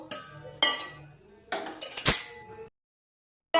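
Payesh being ladled into a serving dish: a few close clinks and scrapes of a metal spoon against the vessel in short bursts, then a brief silence.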